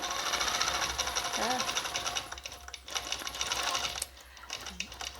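A longarm quilting machine stitches a quilt-as-you-go piece, giving a steady mechanical whir with rapid needle chatter close by that pauses briefly around the fourth second, with faint speech in the background.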